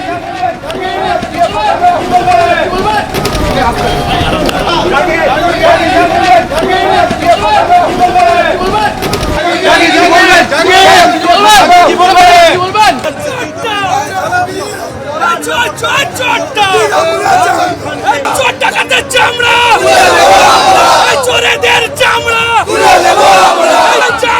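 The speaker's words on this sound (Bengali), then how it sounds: "জাহাঙ্গীরের উদ্দেশ্যে আজ চোর চোর স্লোগান ওঠে" A crowd outside a court loudly chants "chor chor" (thief) at Jahangir Khan, the rhythmic slogan shouted by many voices over dense crowd babble.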